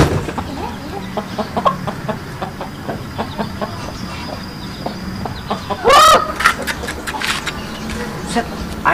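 A chicken clucks in short repeated bursts near a coop, with people talking over it and a sharper squawk-like call partway through.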